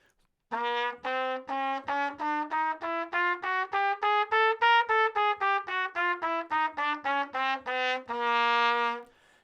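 A trumpet plays a chromatic scale from C, rising and then falling in a run of about twenty-five short, evenly spaced detached notes, bright and close, ending on a longer held tone.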